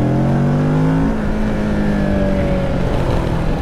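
Kawasaki Ninja 650 motorcycle engine revving up loudly and steadily up close, rising and holding its pitch without any talk.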